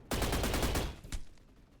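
Gunfire in the Roblox first-person shooter Energy Assault: a loud, dense rapid burst of shots lasting under a second, then one more sharp report, with a short decaying tail.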